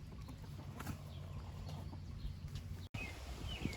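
Backyard chicken flock clucking softly and steadily, a low continuous murmur of hens close by with a brief gap near the end.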